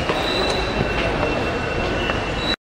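London Underground train running through a tube tunnel, a steady loud roar with high metallic wheel squeal threading through it, continuous for a couple of seconds before cutting off abruptly.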